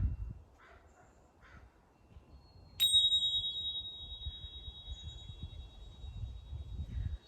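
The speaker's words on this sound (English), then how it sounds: "listen to the sound of the tingsha bell" Tingsha bell struck once, giving a sharp bright chime held close that lingers as a clear sustained tone for several seconds, fading slowly over faint background rumble.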